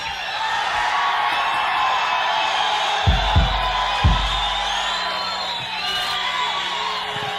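A crowd at a blues band concert at the Agora in Cleveland cheers and whoops steadily throughout, a broad roar of many voices with a few louder thumps partway through.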